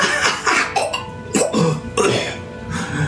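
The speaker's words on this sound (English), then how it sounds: "coughs up a big chunk of blood." Several harsh, wet coughs in quick bursts, close up, with heavy breathy spluttering between them and no clear talk.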